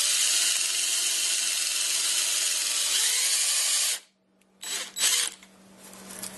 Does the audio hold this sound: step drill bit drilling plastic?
yes